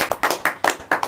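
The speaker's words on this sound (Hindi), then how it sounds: "राज रस्तोगी साहब का तालियों से स्वागत करें आप सब मित्रों" A handful of people clap at a poetry gathering to welcome a poet to the stage, several distinct sharp claps in quick uneven bursts, fairly close and moderately loud, with no voices.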